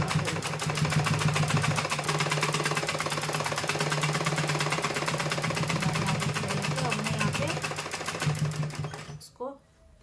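A sewing machine runs steadily while stitching salwar fabric, its rapid needle producing a dense, even mechanical chatter close up for about nine seconds before it stops abruptly.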